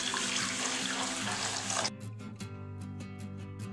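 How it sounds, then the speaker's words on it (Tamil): Water pours into a pan on a gas stove as a loud, steady splashing stream that stops abruptly after about two seconds, followed by a quieter tonal hum. "இப்போ கேஸில் பேனை வச்சு அதில் 2 சொம்பு வந்து தண்ணி ஊற்றிக்கோங்க"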